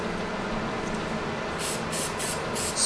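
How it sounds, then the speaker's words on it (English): Angelus mink oil sprayed onto the suede of a pair of Off-White Jordan 1 sneakers, several short hissing bursts in the second half over a steady background hum, close and fairly loud. "Spray it a little bit."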